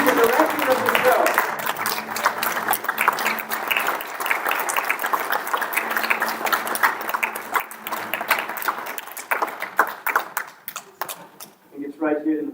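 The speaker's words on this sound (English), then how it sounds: "Cody Cutler, give a round of applause for him." Audience applause in a school auditorium after a one-man Christmas Carol stage show, honoring the director; sustained crowd clapping that gradually thins toward the end, with talking over it.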